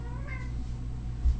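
A pet cat meows once, short and soft, over a steady low hum in a quiet room at Christmas morning.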